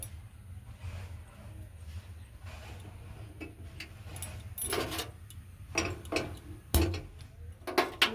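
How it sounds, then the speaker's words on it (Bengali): A kitchen gas stove is switched on and lit before a karai goes on for cooking broken-rice khud bhat; a few sharp igniter-like clicks and taps ring out faintly over a low steady hum. "গ্যাসটা অন করে নিয়েছি আর কড়া চাপিয়ে দিল"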